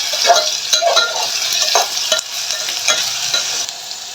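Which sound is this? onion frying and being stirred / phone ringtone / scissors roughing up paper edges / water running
onion frying and being stirred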